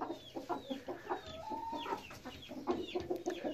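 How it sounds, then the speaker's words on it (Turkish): A broody hen grumbles in low, repeated clucks, close by and fairly steady, with a few higher squawk-like notes mixed in and quiet farmyard sounds behind. "Gurk tavuk kendini bu şekilde belli eder."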